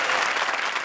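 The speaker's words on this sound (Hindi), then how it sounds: "जोरदार तालियां वीआईपी और फ्रेंड्स के लिए।" Audience applause at a live comedy show, dense continuous clapping from a large crowd, loud and sustained through the whole brief moment.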